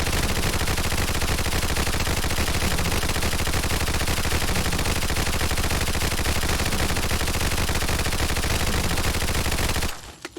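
An American 180 .22 submachine gun fired at a Deathclaw in a video game: one unbroken, very fast stream of loud rattling shots lasting about ten seconds, then cutting off abruptly into a few faint trailing sounds.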